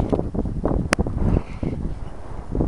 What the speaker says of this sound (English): It's really windy out.